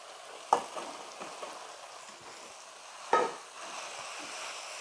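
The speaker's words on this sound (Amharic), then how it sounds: "ዋው አሁን እንደዚህ በደንብ ተክተክ ብሏል።" Steady sizzling of okra frying in a pan, with two sharper bursts of crackle as it's stirred, fairly close and moderately loud, no voices.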